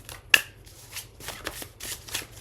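Tarot cards being shuffled close up, with a sharp riffling burst near the start followed by several softer, irregular papery shuffles and no talking.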